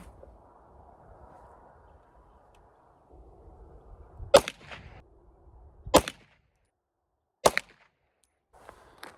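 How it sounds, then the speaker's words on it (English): A Browning High Power FN pistol fires three Federal 115 grain full metal jacket factory rounds at an outdoor range, three sharp, loud, evenly spaced cracks about a second and a half apart over quiet background noise. "This first three shots is going to be the Federal Full Metal Jacket"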